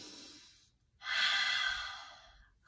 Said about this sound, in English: we're gonna take a big breath in through our noses like we're smelling something yummy